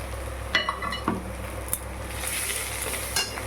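Spices sizzling in a pan while a spoon stirs and scrapes, with a few metallic clinks over a steady low frying hiss, close up.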